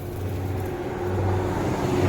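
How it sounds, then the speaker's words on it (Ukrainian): A jeep arrives in a rural garden setting, its low engine rumble steady and growing slightly louder as it comes near. "Машина приїхала. Джип на своєму любимому дереві."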